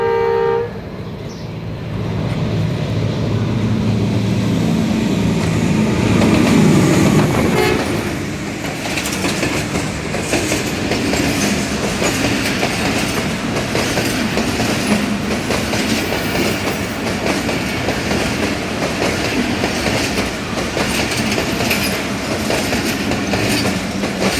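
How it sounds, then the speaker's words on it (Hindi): Jaffar Express passenger train rolling through Nasirabad station in Pakistan, a loud sustained rumble with steady clickety-clack of wheels over rail joints, building near the start and continuing close by throughout, no talk. "ये रही जाफ़र एक्सप्रेस"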